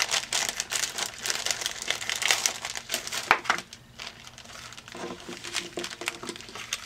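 Plastic packaging being opened, with rapid crinkling and crackling close up for several seconds, loud and busy, easing toward the end, no talk over it.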